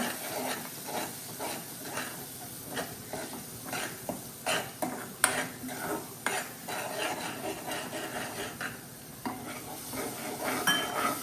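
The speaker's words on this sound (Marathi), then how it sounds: "मसाला पण ज्याप्रमाणे कांदा मारून घेतला त्या प्रमाणे मसाला पण चांगला मारून घ्यायचा" Dry masala being stir-fried in a pan for a bhaji, with a steady low sizzle and repeated scraping strokes of a spoon against the metal, fairly close and without any talk.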